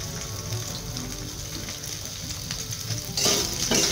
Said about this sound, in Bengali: তেল গরম হয়ে গেছে, তো আমি এবারে সয়াবিনগুলোকে ভেজে নেব